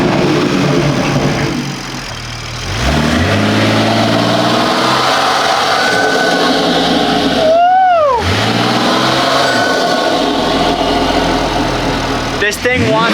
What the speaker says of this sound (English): Let's hear this turbo.